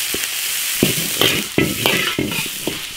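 Scallion, ginger, Sichuan peppercorns and dried chilies are stir-fried in a wok, with steady oil sizzle broken by repeated scraping strokes of the spatula at an uneven rhythm, close and fairly loud.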